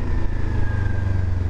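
A 2023 Kawasaki Ninja 400 KRT motorcycle engine runs steadily with a deep, continuous low drone and a faint high whine, close and fairly loud, without clear revs.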